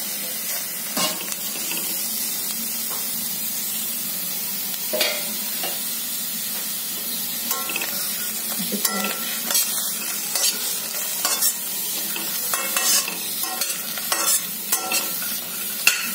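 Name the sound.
cluster beans frying in a wok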